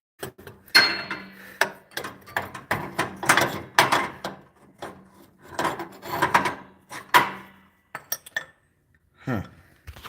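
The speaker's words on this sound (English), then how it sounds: "Hammer a little bit." Hammering makes a string of irregular knocks and clatters, close and sharp with uneven gaps between blows, tapering into a few scattered taps and scrapes near the end.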